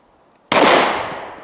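A single sharp handgun shot cracks out loud and close after a moment of near silence, its report decaying into a short echo.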